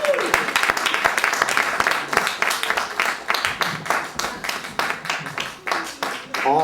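Audience applause for a comedian at a developer conference comedy show, dense clapping throughout with a voice speaking over it as it tapers into separate bursts.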